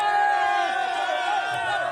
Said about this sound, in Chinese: 现场传出欢呼声。